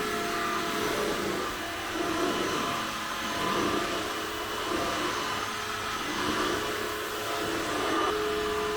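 A Swan Dirt Master Cross X Over vacuum cleaner running steadily while cleaning a dirty sofa, a continuous close whine and rushing suction that shifts slightly in pitch as the nozzle moves.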